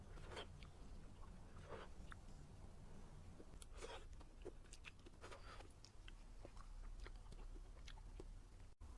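Homemade chocolate cake being eaten up close: soft scattered bites and moist chewing clicks spread irregularly over quiet room tone, with no talking.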